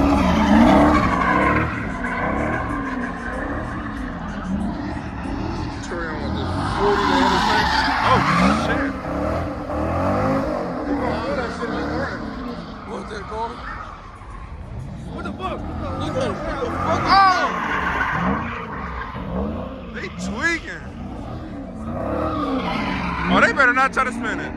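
Tires squeal and skid as a car spins in a pit at a car show, with a droning engine and screeching rubber mixed into loud crowd chatter and shouting throughout.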